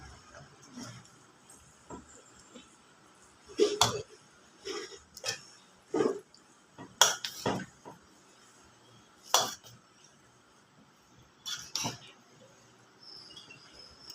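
Food being stirred in a pot with a utensil, a series of sharp, irregular scraping clinks against the metal at close range, scattered across a quiet background.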